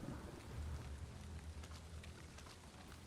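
Steady rain pours down in a swamp during a storm in the video game Valheim, a dense continuous hiss with deep low rumbling thunder beneath it throughout.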